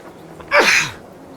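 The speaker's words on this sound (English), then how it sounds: "All this pollen's making me sneeze." A single loud, close human sneeze, a sharp burst that trails off quickly into quiet, uttered by a beekeeper at work among hives.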